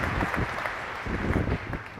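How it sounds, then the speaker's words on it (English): An audience at a corporate brand presentation on digital kiosks gives a round of applause for a presenter, a dense, continuous burst of clapping that fills the whole moment. "give David Nuschler a round of applause"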